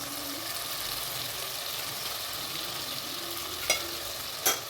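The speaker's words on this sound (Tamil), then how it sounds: "ஆயிலே நல்லா ஃப்ரை ஆகுதுங்க தக்காளியும்." Tomatoes fry in oil in a pan for a drumstick sambar, giving a steady close sizzle throughout, broken twice near the end by brief sharp scrapes or clinks of a utensil, with no talking.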